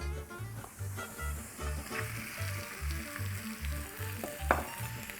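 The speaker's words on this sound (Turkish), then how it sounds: "bir kaşık da zeytinyağı ekliyorum. Ve bütün bu sebzeleri içine atıyorum." Chopped vegetables for chicken fajitas frying in a pan with a spoonful of olive oil, giving a loud bright sizzle close by, with a regular low rhythmic thumping underneath and occasional sharp clinks.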